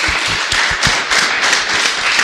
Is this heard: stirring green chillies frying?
no